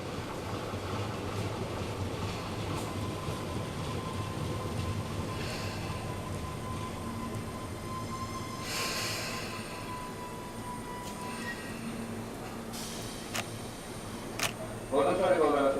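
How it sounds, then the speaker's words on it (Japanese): A non-stopping train passes through a Japanese railway station platform, a steady rumbling roar building over the period with brief sharper clatters, while a platform announcement voice speaks over it. "2番線ご注意ください。 通過電車が参ります。"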